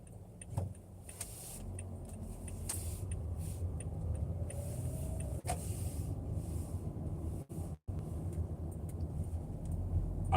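A car creeps along slowly, its low engine rumble steady and close, with a few faint clicks and rattles and brief dips in the drone.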